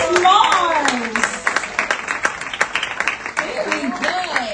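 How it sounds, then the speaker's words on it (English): Applause from a small audience, a patter of scattered hand claps that runs under a speaker's voice, with talk at the start and near the end. "Give them a round of applause."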